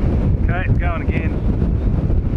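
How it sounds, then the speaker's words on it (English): Strong wind buffets the microphone on a hillside where an AtomRC Swordfish model plane is flown as a slope glider, a loud, constant low roar with a voice breaking through briefly. "Wind's picked up even more, but we've got no props on, so it's going to be more efficient. That's strong wind now."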